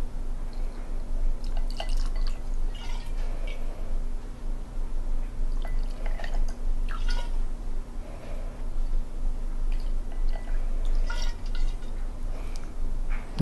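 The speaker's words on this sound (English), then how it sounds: "I'm going to put 2 ounces of whiskey." Whiskey, about two ounces, poured into a glass over ice, giving soft irregular trickles and drips against a steady low background hum for the whole stretch.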